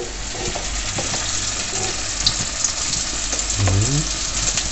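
Lumpia (lumpiang shanghai) frying in hot oil, a close, steady sizzle and crackle with a brief stirring clatter near the end.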